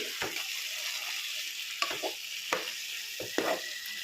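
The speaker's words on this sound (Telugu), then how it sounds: "ఇది బాగా తిప్పుకోవాలండి, అంటే ఇది బాగా కలుపుకోవాలండి." A spoon stirs chicken curry topped with coriander in a sizzling pan, with a steady frying hiss and several distinct scraping and knocking strokes against the metal, close up.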